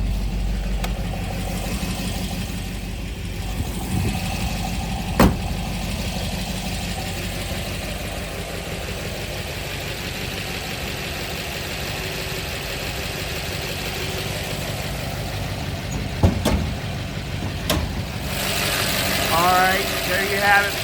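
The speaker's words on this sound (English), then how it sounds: "There is your K-Code high performance 289 engine." A high-performance 289 V8 in a 1966 Ford Mustang K-Code GT fastback idles steadily, a low even rumble throughout with a few sharp clicks and knocks.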